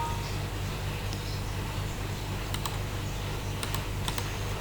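Computer keyboard typing while working in a spreadsheet, a few sparse key clicks including an Enter press over a steady low hum, with no voice.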